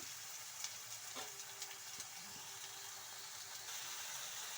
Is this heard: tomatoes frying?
yes